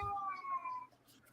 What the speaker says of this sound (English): it's my 20-year-old cat, Wheezy